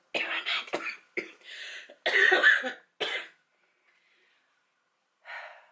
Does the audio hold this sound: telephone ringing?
no